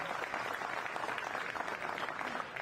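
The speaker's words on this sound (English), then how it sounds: "Gets a welcome applause from the audience" An audience claps steadily at a 10-ball pool world championship match, a moderate, even wash of applause lasting a few seconds with no speech.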